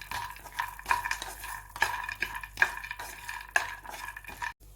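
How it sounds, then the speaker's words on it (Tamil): Mixed nuts roasting in butter in a pan over a medium flame, for condensed-milk burfi, with a spatula scraping and clinking against the pan in steady repeated strokes, close and fairly quiet, no voices. "அடுப்பை மீடியம் ஃப்ளேமில் வச்சுட்டு நம்ம சேர்த்துருக்கிற நட்ஸ் எல்லாம் கொஞ்சம் ரோஸ்ட் பண்ணி எடுத்துக்கலாம்"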